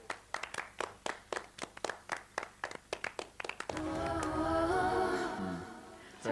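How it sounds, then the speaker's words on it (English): Audience applause: a run of rhythmic hand claps builds, then merges into a dense, sustained burst of clapping and cheering that fades near the end. "Round of applause."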